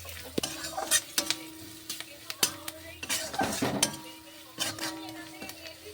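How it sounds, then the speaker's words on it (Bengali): Spices tipped into a hot pan and stirred, with scraping and clinking of a utensil against the metal over a soft sizzle, repeated in short irregular strokes at close range. "এবার দেখো একে একে সব মশলাগুলো আমি দিয়ে দিচ্ছি, দিয়ে একটু নাড়াচাড়া করে নেবো"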